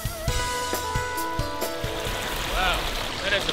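Loud stream water rushes steadily at Savage Gulf, a constant close wash with a few knocks and brief faint voices.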